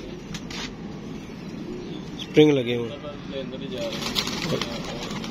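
Pigeons being handled and inspected: a short burst of throaty cooing stands out mid-clip over steady background noise, while someone talks throughout.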